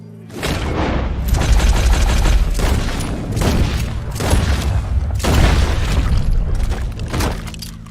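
Gunshots and heavy blasts in the video game Red Dead Redemption 2, several loud close bursts of firing separated by brief gaps over a low rumbling background, with no talking.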